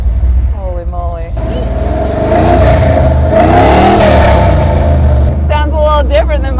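A car engine fires up and revs hard, a loud rising roar that swells and settles, with excited voices talking before and after over the engine noise.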